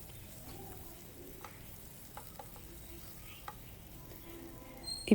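Chicken pieces fry on a tawa with curry leaves, a soft continuous sizzle broken by occasional scrapes and taps of a stirring spoon, ending in a louder clatter.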